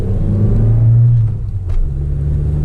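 A 1981 Honda Accord's engine rumbles and revs as the car pulls away on a hill start, a steady close mid-pitched drone with a brief rise in effort.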